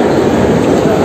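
A loud, steady roar of a metro train and station fills the space inside a busy metro, with a continuous rumble and no clear voices.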